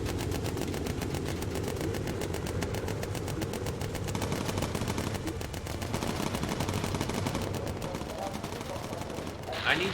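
Rapid, continuous machine-gun fire from a bomber gunner's turret in Bomber Crew, a dense rattling stream over a droning aircraft engine, with voices talking underneath.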